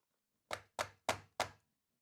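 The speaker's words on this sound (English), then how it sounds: "Use a hammer." A hammer taps wall plugs into a drilled wall: four sharp, evenly spaced knocks close by, each with a short decay, in an otherwise quiet room.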